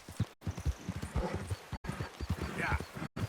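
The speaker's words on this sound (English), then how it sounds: "Hey, control that horse." Horse hooves clip-clop steadily close by in the video game Red Dead Redemption 2, overlapped by people talking throughout.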